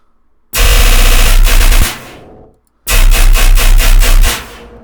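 Two loud bursts of deep synthesized sub bass with noise FM giving a gritty, noisy buzz, each lasting about a second and a half, separated by a short gap.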